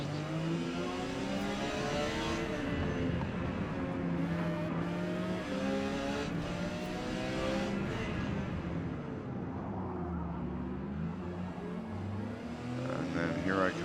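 Porsche 956 race car in the video game Forza Motorsport at Kyalami, engine howling and revving through gear changes under continuous commentary, rising and falling pitch as the car accelerates and brakes.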